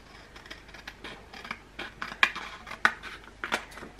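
Scissors cutting the white border off a sheet of sublimation paper for a mug, a run of soft, irregular snips and paper rustles with a few crisper clips.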